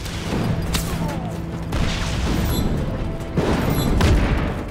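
Fuel tanks blow up in the Just Cause 3 video game, with loud rumbling booms and crashing bursts in roughly three waves, thick low-end blasts layered over steady game noise.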